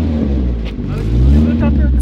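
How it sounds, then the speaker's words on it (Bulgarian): A Peugeot car engine rumbles close by and swells as gas is given, the low drone climbing under excited voices talking over it. "Дай малко газ."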